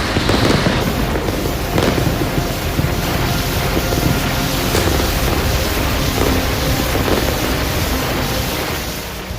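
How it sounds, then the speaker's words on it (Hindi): A Russian rocket depot explodes in a continuous loud rumbling roar of serial blasts, heard at a distance through heavy wind buffeting on the microphone, with a few sharper cracks rising out of the steady din. "यूक्रेन ने रूस के रॉकेट गोदाम पर एक बम गिराया और उसके बाद सिलसिलेवार धमाके शुरू हो गए।"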